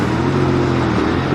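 A custom Royal Enfield Interceptor 650 with belt drive rumbles through its exhaust pipes, a loud, close, steady droning note with a slight pitch dip partway through, no voices.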